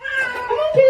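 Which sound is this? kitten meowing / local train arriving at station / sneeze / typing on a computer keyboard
kitten meowing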